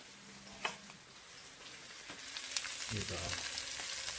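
Sliced mushrooms tossed into a pan with pork for a creamy pork steak give a steady, moderate sizzle with occasional clicks of a spoon stirring, and one brief word spoken near the start.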